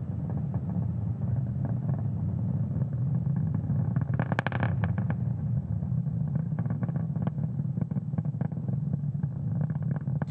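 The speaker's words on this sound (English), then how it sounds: "we are throttling down the engines in preparation for Max-Q" SpaceX Falcon 9 rocket engines throttled down near Max-Q during a Starlink launch ascent, a steady, continuous low roar with crackling bursts around the middle, heard at a distance without talk.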